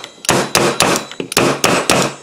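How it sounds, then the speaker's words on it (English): A hammer strikes a stuck drill chuck in a quick series of about eight sharp metallic clangs, close and loud, evenly spaced with ringing tails and no talk. "A couple minutes just hitting it like that, and it just popped open."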